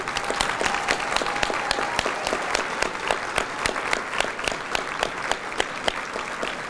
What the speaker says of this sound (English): If I may get a round of applause for all our individual nominees.